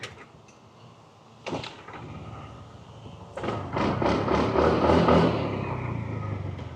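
A Honda Activa or TVS Jupiter scooter is switched on with a few clicks and clunks, then its small engine catches and settles into a steady nearby idle hum, no talking.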